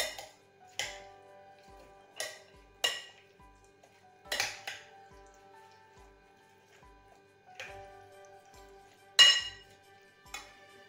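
A fruit salad being mixed in a bowl, heard as sparse clinks and ticks of a utensil against the dish, each one separate and close, spread out with quiet gaps between them.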